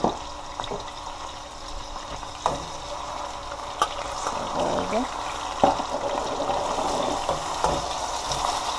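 Garlic and ají chili fry in hot oil, giving a steady, close sizzling hiss with occasional crackles and stirring clicks while a voice speaks intermittently over it.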